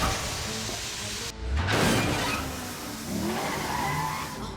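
Close, loud car engine roars, cuts briefly, then surges again as tires skid and squeal, with the motor revving on under the slide.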